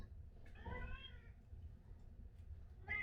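A pet cat meows twice, a short mewing call near the start and another at the very end, fairly faint and close, over a quiet kitchen background with no talking.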